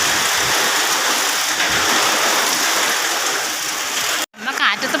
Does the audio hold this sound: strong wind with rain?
yes